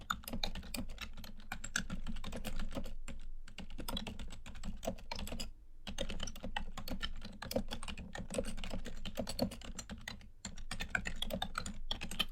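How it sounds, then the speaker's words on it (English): Continuous typing on a computer keyboard, a steady rapid patter of key clicks with two brief pauses, close and clear with no talking. "And I'm going to type some text in here."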